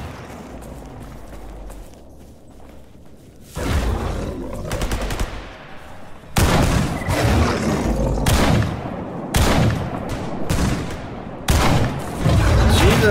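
Bursts of automatic gunfire in the video game STALKER GAMMA: a quiet opening, then loud rapid volleys in repeated clusters, each cut off sharply, with the later bursts closer together.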